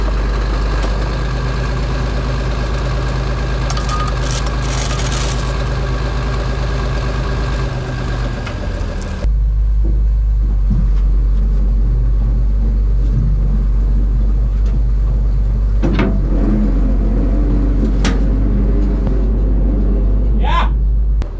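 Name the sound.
seized grader engine turning over while towed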